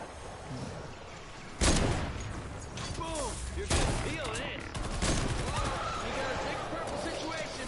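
Fortnite Save the World gunfire pops in sharp bursts and rapid volleys, with the loudest shots near the start and middle. A voice speaks briefly over the shooting.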